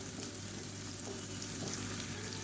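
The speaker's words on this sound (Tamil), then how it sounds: "பெரிய வெங்காயம் நீளமாக நறுக்குனதை சேர்த்துக்கலாம் மீடியம் சைஸாக ஒரு பெரிய வெங்காயம் இதையும் சேர்த்து வதக்கிக்கலாம்" Sliced large onions and vegetables sauté in hot oil in a pan for an egg rice dish, giving a steady, soft, continuous sizzle with faint stirring and no talk.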